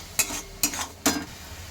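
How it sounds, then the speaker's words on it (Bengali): Potatoes with spice paste, chilli powder and salt are stirred in a pan, giving three distinct scraping strokes about half a second apart over a low background sizzle. "আলু সবটা একটু দিয়ে নাড়াচাড়া করে নিতে হবে"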